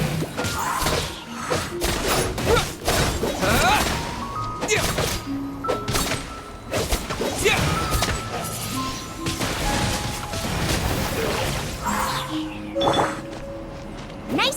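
Genshin Impact combat with wind blade attacks: a dense, loud run of whooshing slashes, smashes, thuds and impacts layered over game music and character voice lines, continuous throughout.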